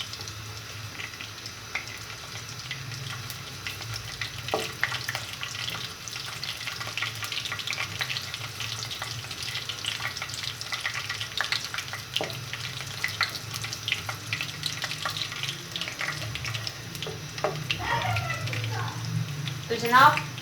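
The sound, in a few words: ingredients frying in hot oil while being stirred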